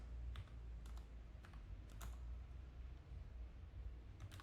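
Keystrokes on a computer keyboard while entering code in a UiPath automation, coming as a few quiet, scattered clicks with pauses between them over low steady background hum.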